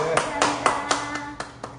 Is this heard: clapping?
yes